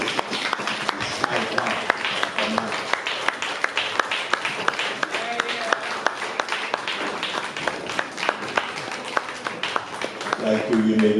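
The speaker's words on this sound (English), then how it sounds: "we should all stand, give Lloyd B a round of applause." Standing audience at a celebration honoring a long-serving newspaper publisher breaks into sustained applause, dense clapping filling the room for the full length with scattered voices and cheers mixed in.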